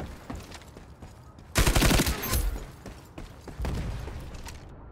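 Light machine gun in the shooter game Ironsight firing two short bursts, a sharp rattling volley followed by a second, quieter burst, both close and loud against faint background noise.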